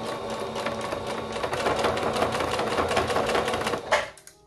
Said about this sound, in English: So we're gonna edge stitch all around here, just make sure we're covering up the seam.